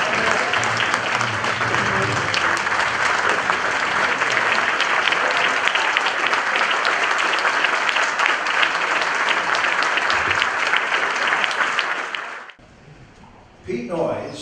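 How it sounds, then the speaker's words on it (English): An audience at a gathering of news-industry veterans applauds an honoree with a steady, full round of clapping lasting about twelve seconds before it stops abruptly, followed by a quieter room. "please give him a big round of applause to Saul Halpert."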